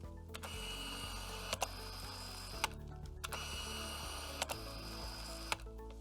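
A camera body's screw-drive motor drives the attached lens, whirring loudly and steadily with brief clicks and stops, close up and without voices.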